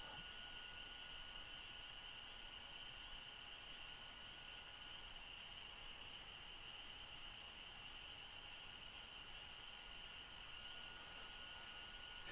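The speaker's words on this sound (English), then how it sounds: "It's so peaceful. You hear the crickets?" Crickets chirping at night on a mountainside, a thin high trill that repeats steadily and stays faint and distant over a constant soft hiss, with no voices.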